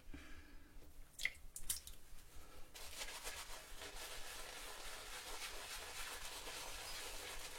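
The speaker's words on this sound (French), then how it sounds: "Je vais ajouter de l'eau." Water runs and splashes while traditional shaving lather is being prepared, a soft steady pour with a few sharper drips that starts after a quiet moment and continues at close range with no talking.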